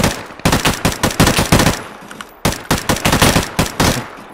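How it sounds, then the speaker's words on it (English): Automatic gunfire in the Deadside survival shooter, two sustained bursts of rapid, loud shots separated by a brief gap, with no talk over it. "There's a guy shooting."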